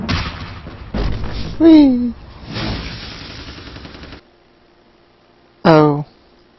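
Rapid game gunfire from a shooter in Vampire the Masquerade Bloodlines crackles loudly for about four seconds, with a voice cutting in over it and a short exclamation after a pause.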